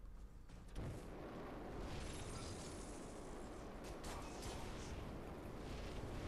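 A loud explosion in the video game The Surge bursts in after a quiet opening second, then swells into a dense, sustained roar and crackle that holds at full strength to the end.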